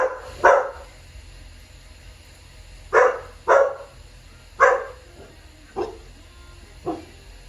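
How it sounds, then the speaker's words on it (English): A pet dog barks excitedly in repeated sharp bursts, about six loud close barks spaced a second or so apart, as the boys of the house arrive home. "My boys are home, so my dog's gonna go crazy"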